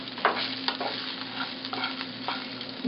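A tamarind and brinjal mixture is stirred in a pan over heat, with a soft, steady sizzle under scraping spoon strokes and a few louder knocks against the pan, close and without talk.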